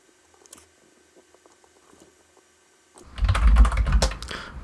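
Rapid typing on a computer keyboard while entering a Windows 10 password, a close, clattering burst of keystrokes that starts after a few seconds of faint scattered clicks.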